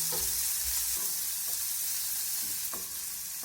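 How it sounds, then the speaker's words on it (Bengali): Chopped onion lightly frying in a pan, an even hiss of hot oil with a few brief spatula stirs and taps, quiet and close, with no one talking. "পেঁয়াজটা প্রথমে আমি হালকা করে ভেজে নেব।"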